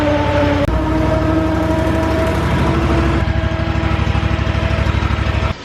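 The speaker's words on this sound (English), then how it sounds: "I will put one lawnmower under here." A lawn mower's small engine runs steadily and loudly throughout, with a rough, pulsing drone that stays constant for several seconds.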